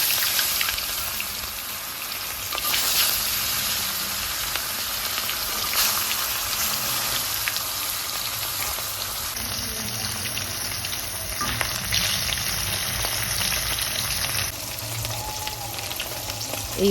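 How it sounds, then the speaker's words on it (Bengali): Pieces of katla fish fry one by one in hot oil in a wok, giving a loud, dense, continuous sizzle with crackling spatter. The frying holds steady throughout with no talking. "এক এক করে মাছগুলো ভেজে নেব"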